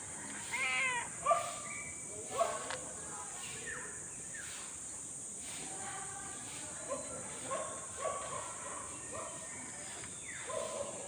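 A cat meows several times at low volume over a constant high-pitched hiss, with faint background noises.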